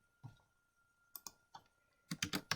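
Keys clatter on a computer keyboard in a few brief bursts of quiet clicks, then a quick run of several taps near the end, close up with no talking.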